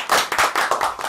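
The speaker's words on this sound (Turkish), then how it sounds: "Şöyle bir alkış." A small group of people clap their hands in a brief, close burst of sharp, rhythmic claps, about five or six beats in just over a second, with no talking.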